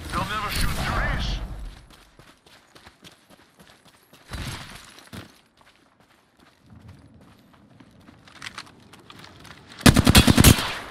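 Gunfire in the video game Apex Legends crackles in several separate bursts, loud rapid automatic fire at the start and end with quieter scattered shots between.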